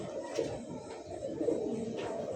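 Fancy pigeons kept for sale coo softly in low, murmuring calls, faint and fairly steady against quiet background noise.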